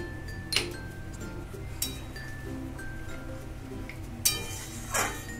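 A utensil scrapes and clinks against a pan while cumin powder is stirred into yam curry, a few sharp metallic taps and scrapes over a quiet background hum.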